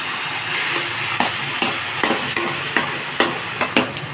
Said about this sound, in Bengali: গ্যাসটাকে হাই ফ্লেমে করে রেখেছি, দিয়ে ভালো করে নাড়াচাড়া করে নিচ্ছি।